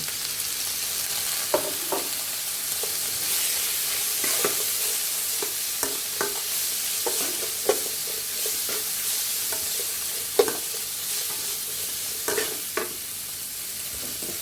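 Salmon sizzles steadily in a hot pan with a splash of light soy sauce while a spatula scrapes and stirs at irregular intervals, sharp clinks standing out over the continuous frying hiss, no voices.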